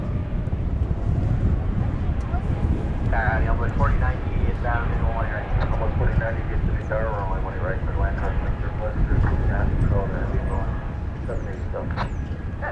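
A Qantas airliner moves on the ground at Dallas Fort Worth airport, a steady broad engine roar with wind buffeting the microphone, while people talk continuously over it.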